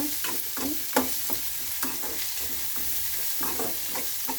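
Garlic and raw ginger stir-fry in a hot pan, with a steady sizzle under repeated scraping, clicking strokes of a spoon coming in quick irregular bursts, close and without speech.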